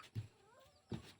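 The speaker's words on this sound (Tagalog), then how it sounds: "Di sa amin pusa, yung sa damuhan." A cat meows in the grass, two short, fairly loud calls about a second apart over quiet outdoor background.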